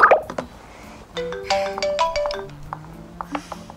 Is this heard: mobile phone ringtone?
yes